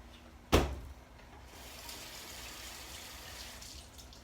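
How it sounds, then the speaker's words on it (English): A kitchen tap is turned on with a sharp click and water then runs steadily at a moderate, close level while food is rinsed, continuing with no talk over it. "Rinse, rinse, rinse."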